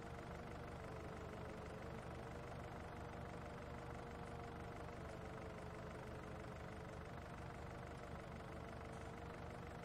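A Kubota tractor in Farming Simulator drones steadily while pulling a batwing mower, a continuous faint engine hum with no breaks.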